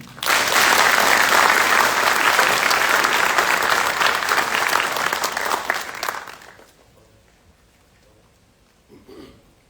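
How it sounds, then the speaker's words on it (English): A large audience at a US Army drill sergeant graduation ceremony gives a sustained round of applause that holds strong, then cuts off abruptly, leaving quiet room tone and a brief voice. "Please join me in a round of applause for their hard work and dedication."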